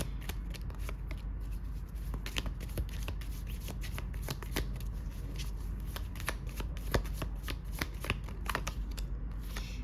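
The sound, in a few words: shuffling tarot cards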